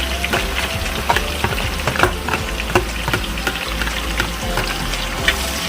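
Chopped vegetables sautéing in hot oil for a Kerala fish molee, a loud, dense, close crackling sizzle with repeated spatula scrapes and pops throughout, no talking.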